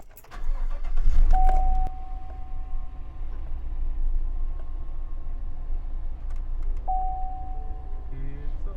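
A Chevy or GMC truck engine turns over and settles into a low, steady idle, with a couple of electronic beeps chiming over the rumble.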